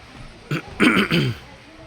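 A short burst of close throat clearing and coughing, two or three rough bursts in quick succession over quiet room tone.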